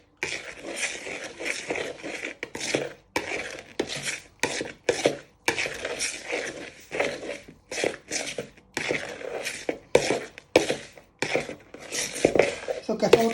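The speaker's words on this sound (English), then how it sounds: "now you want to start bringing it together with your knife" A table knife scraping and clinking around a bowl while egg and milk are worked into custard tart pastry, rhythmic bursts of rasping and tapping broken by short pauses, close and fairly loud.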